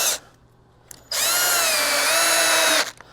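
A power drill drives screws into the end plate of a harvest rack, giving a brief whir, a short pause, then a loud sustained high-pitched whine for nearly two seconds before stopping.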